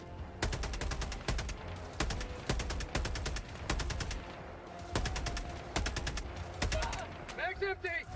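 Video game gunfire, with rapid machine-gun bursts and single shots cracking repeatedly at close range in a tight, rhythmic pattern throughout.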